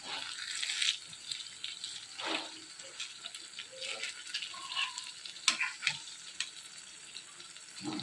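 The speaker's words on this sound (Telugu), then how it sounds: "ఈ విధంగా మగ్గుతున్న ఈ వంకాయలు అన్నింటినీ ఇటువైపు కూడా తిప్పుకోండి" Stuffed brinjals sizzling as they cook in a pan, a gentle continuous fizz with intermittent clicks and scrapes as they are turned over, close and moderately quiet without speech.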